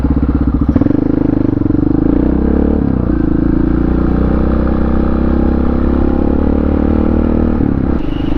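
Honda XR650R supermoto motorcycle ridden fast down a road, its single-cylinder engine droning loud and steady close to the microphone with a brief throttle dip near the start and another near the end.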